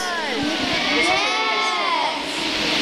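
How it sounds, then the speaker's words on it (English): Crowd of children at a summer camp concert cheering loudly and continuously, a dense high-pitched mass of shouting voices filling the whole stretch. "Give us a good cheer."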